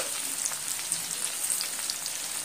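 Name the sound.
frying onion and black cumin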